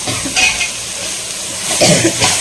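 Fish chukka cooked mutton-style in a pan on high flame, a loud, close sizzle swelling in two bursts as the pieces are stirred and tossed, with faint utensil scrapes and no talking.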